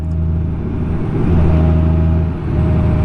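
A Honda Goldwing DCT Tour touring motorcycle rides on a cold, icy day, its engine giving a steady, loud low drone with a slight rise and fall in pitch, mixed with road and wind noise throughout.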